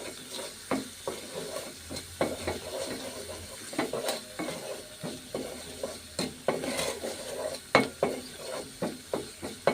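Spices for shing fish fry in a pan on a gas stove while a spoon stirs them, giving a soft sizzling hiss broken by repeated scraping strokes in an irregular rhythm, close and fairly loud.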